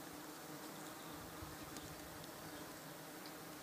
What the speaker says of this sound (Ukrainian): бджолки стоять и вентилюють